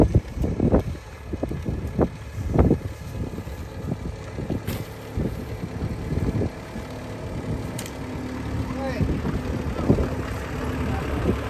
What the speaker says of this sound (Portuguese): Olha aí como tá ventando, galera.